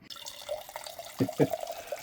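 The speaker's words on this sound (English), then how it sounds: "So I'm going to go ahead and dispense myself some water here really quick." Water splashes from the tap of a glass beverage dispenser into a cup, a short uneven trickle with a couple of louder gurgling bursts, close and moderately quiet.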